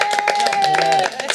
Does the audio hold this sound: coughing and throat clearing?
no